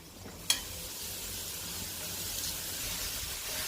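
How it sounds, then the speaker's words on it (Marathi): Cooked dal dropped into a pan of melted jaggery and ghee, a brief splat followed by a soft, steady sizzle and hiss close by. "आता त्याच्यामध्ये आपण डाळ घालूयात"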